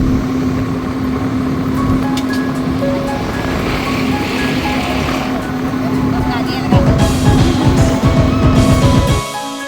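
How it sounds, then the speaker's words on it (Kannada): A farm tractor pulling a trolley along a rural road during the Yellu Amavasye farmers' festival drones with a steady, loud engine hum throughout, under a voice narrating. "ಟ್ರ್ಯಾಕ್ಟರ್ನ ಆ ಸದ್ದು ಕೂಡ ಆ ಕ್ಷಣದಲ್ಲಿ ಒಂದು ಮಧುರ ಸಂಗೀತದಂತೆ"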